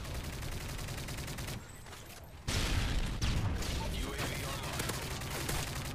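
Gunfire in Modern Warfare 3 on the Dome map, likely from an ACR rifle: rapid bursts of shots in a busy mix, a short lull, then a loud, sustained volley of fire and impacts.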